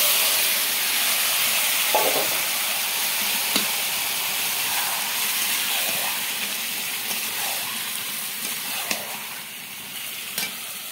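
A pressure cooker with potatoes inside gives off a loud, continuous hiss of escaping steam that holds steady throughout, with a few faint clinks in the background.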